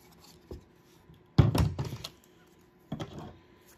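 A Creative Memories border maker punches a chain border into paper: a light tap, then a louder crunching thunk of the cutter pressing through, followed by a final click.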